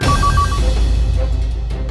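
A telephone rings in a tense home scene during a kidnapping drama, giving a short burst of repeated electronic ring tones at the start over a steady low hum.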